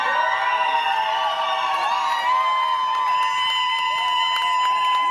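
A crowd cheering and applauding at a reality show gathering, a loud, sustained wash of clapping and whoops with bright, ringing voices held over the top throughout.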